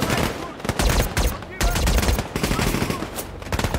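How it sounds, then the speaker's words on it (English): Dense, sustained gunfire from a war film, with rapid overlapping shots and bursts filling the whole stretch at steady loudness, some voices faintly mixed into the battle noise. "There's a whole lot of shooting and a whole lot of dying"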